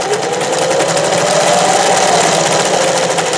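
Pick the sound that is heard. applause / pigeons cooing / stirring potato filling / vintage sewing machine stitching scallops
vintage sewing machine stitching scallops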